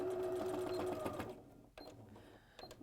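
A sewing machine runs a quick line of stitching on a pocket of a Dorothy jacket, a steady whirring hum for about a second, then stops and gives a few faint clicks.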